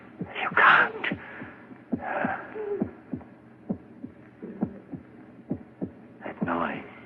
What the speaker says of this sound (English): It's your heart. Beating, pounding, driving the blood through your veins.